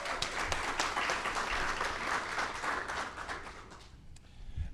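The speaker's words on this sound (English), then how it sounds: "I think we should give Atlanta a round of applause for that." A crowd at a press conference for a college football bowl game and band of the year announcement applauds steadily, a dense wash of many hands clapping that fades out near the end.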